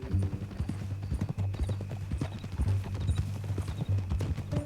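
Horse hooves clip-clop steadily in Red Dead Redemption II, a continuous rhythmic walking gait with a low sustained tone beneath.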